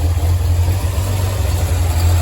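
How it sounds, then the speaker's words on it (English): A Datsun 240Z engine idles a little rough after a first start, giving a steady, loud, low rumbling hum that runs unbroken with no voices. "it's still idling a little bit rough"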